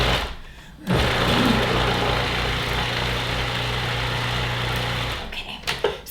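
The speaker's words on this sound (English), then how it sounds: "Now we're going to pulse it until it mixes together relatively well." A food processor pulses a thick caramel mixture, its steady motor whir starting abruptly after a brief lead-in and running continuously for several seconds before cutting off, fairly loud and close.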